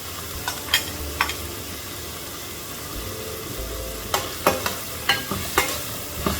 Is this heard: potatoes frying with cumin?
yes